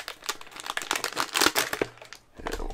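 Plastic packaging of a subscription box item crinkles and rustles in quick, irregular bursts up close, with a few sharp scissor snips as it is cut open.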